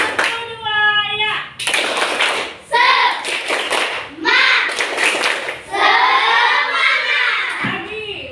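Schoolchildren in a classroom do a rhythmic spirit clap, loud patterned bursts of clapping mixed with chanting and shouting voices, with a few brief pauses between rounds.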